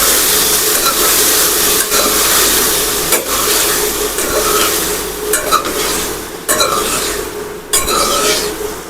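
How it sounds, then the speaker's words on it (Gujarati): Vegetables stirred in a pan of hot oil tempered with mustard seeds, cumin, asafoetida and curry leaves, giving a steady loud sizzle broken by repeated scraping strokes of a spoon against the pan. "આપણે હિંગ નાખીશું મીઠો લીમડો અને શાક નાખી દઈશું અંદર નાખી દઈશું હવે તેને આપણે સારી રીતે મિક્સ કરી લઈશું"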